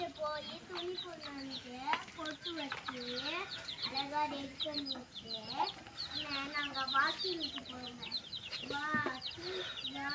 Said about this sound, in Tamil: கோழி குஞ்செல்லாம் பார்த்தீங்கன்னா மேய்ஞ்சிட்டு இப்போ தான் உள்ளார வந்து அடையிற டைம் ஆயிடுச்சு